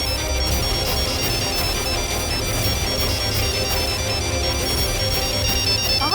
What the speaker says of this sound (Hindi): बज रही है फोन?